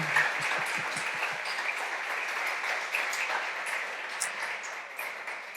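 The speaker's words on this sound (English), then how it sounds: "Un aplaudiment ben fort Molt fort. Més fort. Encara més fort." A crowd at a talent hunters event claps steadily and fairly loudly, a dense sustained patter of hands that carries on evenly without pause, no speech heard over it.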